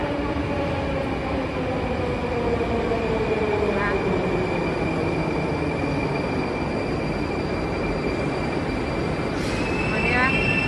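A Moscow metro train pulls into the station with a loud, continuous rumble and rising and falling tonal whines from the motors and wheels, filling the whole stretch with steady noise.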